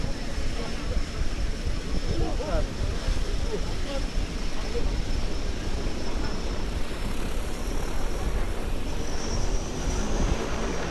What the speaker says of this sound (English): we are having a bit of noise from the seaplane